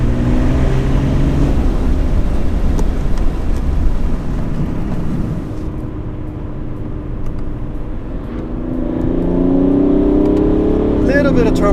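A tuned diesel BMW 335d drift car rated at 400 hp and 600 lb-ft of torque accelerates hard with a loud, rising engine roar that dips briefly, then builds again. A voice talks over it.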